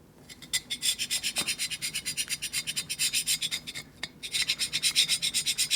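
A scraper cuts paint and rust off a cylinder of a 1980 Harley-Davidson Shovelhead 92ci stroker engine in quick, rhythmic rasping strokes, close and steady, with a brief pause partway through.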